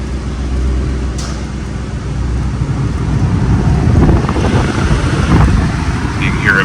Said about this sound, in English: You can hear it blowing. AC blows great.